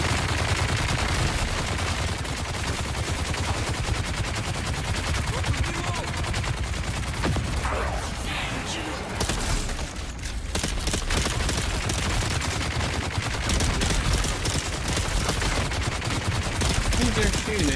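Gunfire in the video game Dune Awakening, dense rapid bursts of shots that run almost continuously, loud and close, with a brief lull midway.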